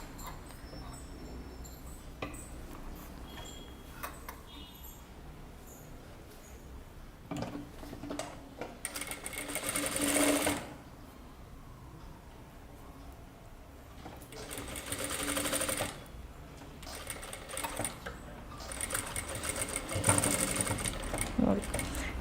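Sewing machine stitching a kurta lining, running with a steady ticking mechanical rattle, quiet and close, speeding into louder bursts at intervals, with a voice speaking faintly over parts of it.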